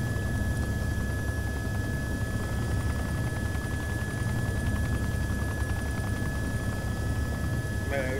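A helicopter in a military video game, heard as a steady loud rotor and engine drone that fills the whole stretch with a constant low rumble and a faint whine.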